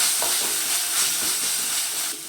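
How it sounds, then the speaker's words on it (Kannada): Turmeric and spices fry in oil for a vegan soya curry, a close, steady hiss and sizzle with light stirring, easing off toward the end and without voices. "ಇದ್ರ ಜೊತೆಗೇ ಮಿಕ್ಸ್ ಆಗಲಿ, ಚೆನ್ನಾಗಿದೆಲ್ಲ ಫ್ರೈ ಆಗಲಿ"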